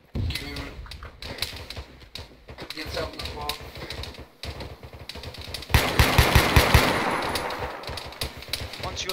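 Machine gun fire in a military combat video game, bursts of rapid shots over rumbling battle noise that swell into heavy sustained fire near the end, with voices talking throughout.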